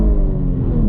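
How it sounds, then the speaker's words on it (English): A 2021 Chevrolet Camaro RS 1LE accelerates in first gear on throttle, a loud, close, deep engine rumble that holds steady and builds through the brief pull, heard from inside the car. "All right, guys, here we go. 1st gear, on throttle."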